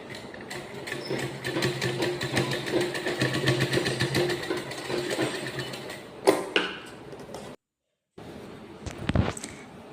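A sewing machine runs steadily as it stitches the collar of a school uniform, with a rapid mechanical chatter. The stitching stops, picks up again in short bursts, and pauses into near silence.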